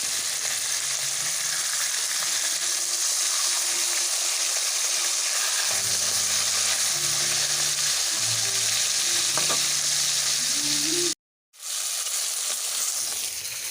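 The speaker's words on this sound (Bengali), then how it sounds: "পরপর করে সব কটা মাছ ভেজে নিচ্ছি সিলভার মাছ কিন্তু খুব ভালো করে কড়া করে ভাজতে হবে" Silver carp fish sizzling steadily in hot oil, a continuous loud frying hiss with some stirring clatter and a brief dropout near the end.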